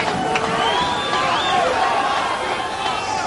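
A mixed martial arts crowd roars steadily throughout a bout between Forrest Griffin and Jeff Monson, a dense sustained wall of cheering with scattered shouts rising above it.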